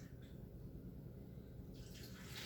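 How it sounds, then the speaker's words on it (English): Milk is poured into a pan for homemade potato soup, a steady, muffled low gurgle and rush that runs throughout, with a brighter splashing rising near the end. "Then I'm going to pour some milk in there."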